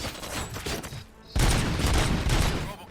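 Gunfire in the video game RoboCop: Rogue City crackles as a rapid fusillade, dropping briefly before a louder, denser barrage resumes, with faint game voices underneath.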